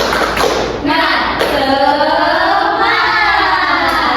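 A classroom of children does a rhythmic spirit clap, a series of sharp claps and taps mixed with shouting voices, close and loud.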